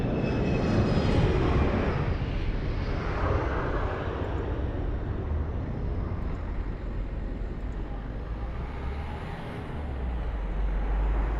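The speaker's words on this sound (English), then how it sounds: "TP1696 just arriving now from Madeira, A320 Neo." TAP Airbus A320neo landing at Lisbon Airport after a flight from Madeira: a broad jet roar, loudest early and slowly easing with a low rumble underneath, heard alone outdoors.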